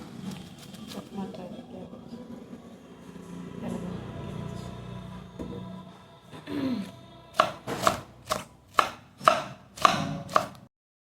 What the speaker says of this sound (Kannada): ಮಧ್ಯಾಹ್ನಕ್ಕೆ ಕ್ಯಾಬೇಜ್ ಪಲ್ಯ ಮಾಡೋಣ ಅಂತ ಕಟ್ ಮಾಡ್ತಾ ಇದ್ದೆ